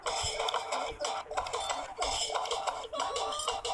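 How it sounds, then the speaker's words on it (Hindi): Chickens cluck in short, busy bursts at close range over a constant bright background hiss, with faint clinks like dishes now and then. "मुर्गी।"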